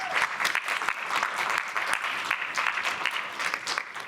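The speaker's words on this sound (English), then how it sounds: "A round of applause." An audience at the MIT Water Summit applauds after a keynote, a steady, dense clapping that carries on evenly throughout at moderate volume.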